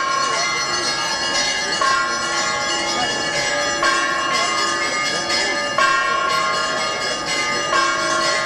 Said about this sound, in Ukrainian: Раптом тиша вибухає радісним лунанням дзвонів.